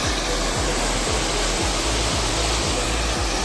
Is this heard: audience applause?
no